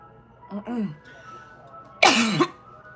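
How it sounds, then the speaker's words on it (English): A person coughs sharply once, preceded by a brief throaty voiced sound, close and fairly loud against a quiet room. "Now I decide to have a cough when I'm live."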